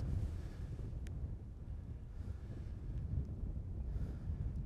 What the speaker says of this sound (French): Il y a toujours le vent contre.